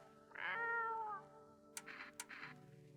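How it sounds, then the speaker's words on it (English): A cat in the video game No I'm Not A Human gives a drawn-out meow when petted, followed by a couple of shorter chirpy mews, close and clear with no talking. "You reach out and pet the cat."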